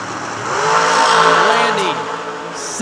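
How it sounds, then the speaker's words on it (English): A drag race engine built by Mark Cook Badman Racing revs up, climbing to a loud, near roar that peaks and dips, with an announcer talking over it. "The Mark Cook Badman Racing Engine motor in the American ride."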